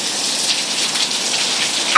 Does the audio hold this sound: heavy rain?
yes